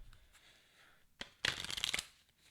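Playing cards being shuffled, a sharp, close burst of riffling lasting about half a second, preceded by a few light handling taps in an otherwise quiet room.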